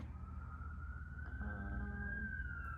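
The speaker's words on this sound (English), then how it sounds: "We'll just sit here and listen to sirens as I read over my stuff." A single siren wails outdoors at a distance, a rising then steady tone over low rumbling background noise.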